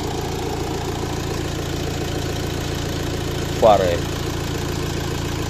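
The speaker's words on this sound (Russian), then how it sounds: "Мотор работает идеально, без посторонних каких-либо шумов." A 2015 Fiat Ducato nine-seat van idles smoothly and evenly, its engine a steady low drone with a cooling fan running for the air conditioning, as someone briefly speaks partway through.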